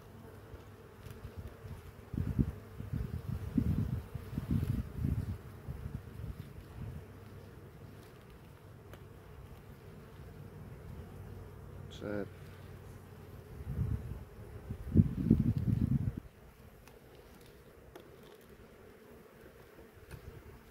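Honeybees buzz around an opened hive in a low, wavering drone, with louder bursts as bees pass close to the microphone, set against quiet background noise.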